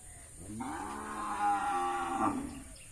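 A single cow gives one drawn-out moo, fairly close, amid the background bustle of a cattle market.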